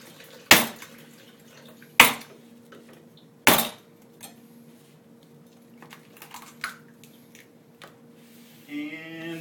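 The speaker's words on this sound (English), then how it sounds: "I'm just going to hack open another one." A coconut being hacked open with sharp, loud strikes, three close chops spaced about a second and a half apart, then softer knocks and shuffling, with a brief burst of voice at the end.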